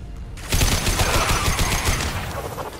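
Heavy sustained gunfire in Mass Effect 2's Horizon rescue: a dense, rapid, loud volley of rifle shots that bursts in after a brief quiet start and keeps rattling without pause.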